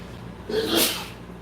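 A single sharp sneeze, close and fairly loud, with a quick breathy intake before the burst.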